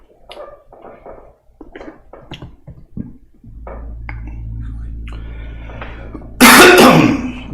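A person clears their throat and gives short coughs close to a microphone, with soft mouth noises and quiet rustling between, ending in a loud harsh burst.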